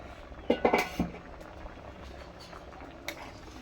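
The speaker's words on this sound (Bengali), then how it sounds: "দেখি ঢাকাটা খুলে এখন" A metal lid is lifted off a pot of boiled mangoes on the stove, giving a few quick clanks and scrapes close by, then fading into a quiet simmer.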